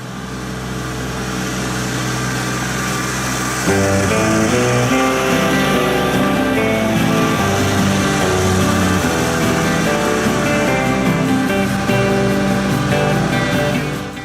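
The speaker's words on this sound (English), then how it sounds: "I'm going to rest while I go get the tractor, bring it down here with the backhoe" A Kubota L3901 compact tractor fitted with a backhoe runs steadily close by, its engine note stepping up in load partway through and then holding a continuous rumbling drone.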